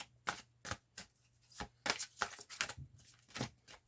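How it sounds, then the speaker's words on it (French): Angel oracle cards are shuffled by hand in quick, crisp riffling bursts, close and fairly soft, about a dozen rapid flicks with short gaps between them and no voice over them. "Je vais tirer la carte de l'archange Michael."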